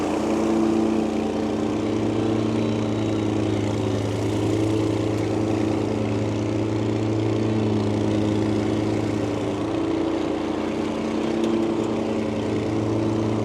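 Steady, loud engine drone of a lawn mower cutting grass along a driveway edge, running continuously up close, with a constant hum and little variation throughout.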